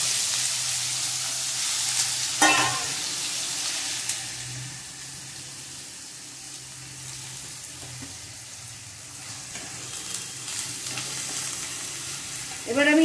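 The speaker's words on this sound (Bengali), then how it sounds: "তেলটা গরম হয়ে গেছে, দিয়ে আমি এর মধ্যে চিচিঙ্গাগুলো ছেড়ে দেবো।" Snake gourd pieces fry in hot oil with black cumin, giving a steady, close sizzle. Occasional scraping stir strokes sound at intervals, with a louder burst of sizzling near the end.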